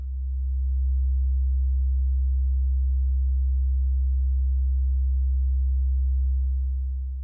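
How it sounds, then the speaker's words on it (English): A pure, low modular synthesizer sine tone hums steadily and smoothly, unchanging for several seconds before cutting off. "This one is a sine wave."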